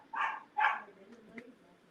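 A pet dog indoors gives two loud barks close by, then quieter yips and whimpers follow as a delivery person arrives on the porch.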